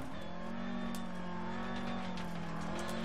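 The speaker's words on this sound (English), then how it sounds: "This car sounds pretty good as well. They've done a good job with the sound." Rally car engine in the DiRT Rally video game, a steady loud droning hum held at high revs throughout, with no talk over it.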